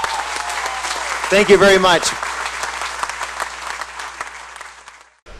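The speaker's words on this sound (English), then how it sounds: "Give it a round of applause." Audience applause at a 2017 World Rowing Championships press conference, a burst of clapping that swells and then trails off, with a speaker's voice over it.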